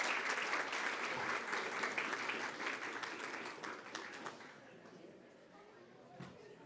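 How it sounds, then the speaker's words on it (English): Sustained applause from an audience at a school board meeting, steady clapping for several seconds that gradually thins and fades out near the end. "how about a nice round of applause for our next set of individuals"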